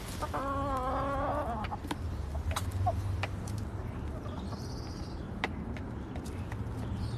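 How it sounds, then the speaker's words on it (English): Chickens cluck in a backyard garden in the Bronx, New York City, with a run of rising, stacked clucks early on and scattered softer calls over a steady outdoor background hum. "One last look at the chickens, and then I'm gonna go take myself inside."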